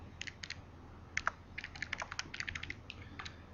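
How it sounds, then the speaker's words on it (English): Fingers tapping calculator keys while entering numbers for a chemistry mole conversion: a quick, uneven run of light clicks, close and clear, in brief bursts with short pauses and no talking. "Type this into your calculator, which I'm doing now."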